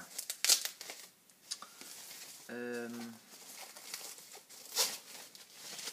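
Plastic and cardboard packaging crinkles and rustles in short bursts while a D-JIX DVD player is unboxed, with a brief harmonic tone midway and someone talking intermittently nearby.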